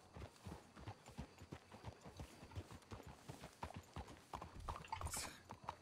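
Horses clip-clop at a steady walk in the Western video game Red Dead Redemption 2, many hoof strikes in an even rhythm, close and moderately loud, with a brief snort near the end.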